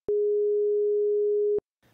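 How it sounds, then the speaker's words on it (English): A steady pure sine tone at 415 hertz, G sharp above middle C, holds at constant loudness for about one and a half seconds, starting and stopping abruptly with no other sound. "This one was a 415 hertz sine wave, also known as G sharp above middle C."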